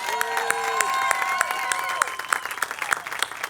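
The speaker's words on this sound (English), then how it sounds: "Can we give another round of applause for the Chorizeras?" An audience claps and cheers through a short burst of applause at an evening poetry event, with scattered sharp claps and a lingering tonal sound fading over the first two seconds.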